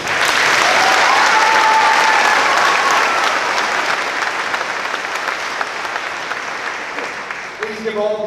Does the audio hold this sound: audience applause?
yes